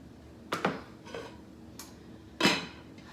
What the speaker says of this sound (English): I'm gonna give it a stir with my knife here.